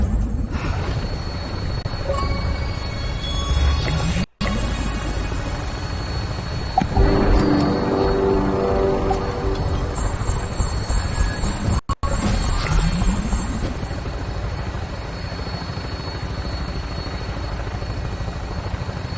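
A video game helicopter spools up and flies, its rotor chop building into a loud continuous roar with turbine whine, heard alone without talk.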